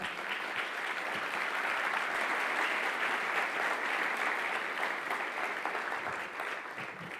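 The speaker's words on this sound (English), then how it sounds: "let us give a big round of applause to our keynote speaker, Christine Lagarde" A lecture audience applauds keynote speaker Christine Lagarde, a steady, sustained wash of many hands clapping from a large hall, even and continuous with only a slight fade at the end.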